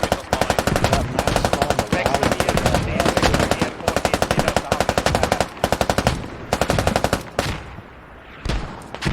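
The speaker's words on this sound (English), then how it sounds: "This MG just absolutely unloading." A machine gun in a tactical shooter game fires long, rapid sustained bursts, loud and close, with brief gaps and a pause before a final short burst; faint voices sit underneath.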